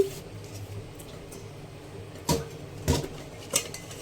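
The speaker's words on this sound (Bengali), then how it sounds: "বড় সাইজের আলুটা কুচি কুচি করে কেটে নিচ্ছি" A large potato being finely chopped with a knife, heard as three sharp, separate cuts against a board over a quiet room background, fairly close and clear.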